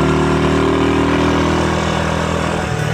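A parked motorcycle engine idles close by, giving a loud, steady, even rumble that barely changes from start to finish.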